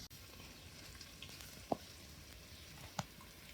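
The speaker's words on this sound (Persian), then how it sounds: "روغن میریزم برای تدلیگ" Oil sizzling in a hot pot as Persian tahdig is started, a faint steady crackling hiss heard close up with two sharp little pops from spattering, and nobody speaking.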